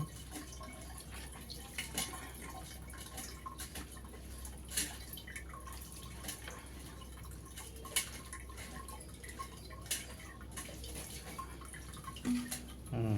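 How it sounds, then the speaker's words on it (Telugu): Water is poured and swished in a bowl while washing an ingredient for rasagulla, giving soft drips and light splashes with a few sharper taps over a quiet background. "ఇంకా కొంచెం నీళ్ళు పోసి కడుగుతున్నానండి"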